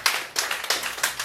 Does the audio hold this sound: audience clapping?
yes